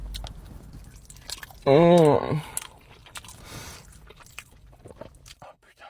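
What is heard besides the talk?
chewing crispy-skinned barbecue brisket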